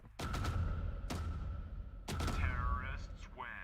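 An AK rifle in a Counter-Strike match fires in sharp, loud bursts, three separate sprays with brief gaps, followed by some voice-like sounds.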